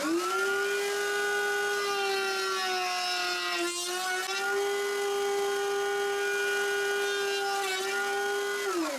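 Dovetail router bit cutting through a wood workpiece, a steady loud high whine that holds level throughout with a brief dip midway, no voices.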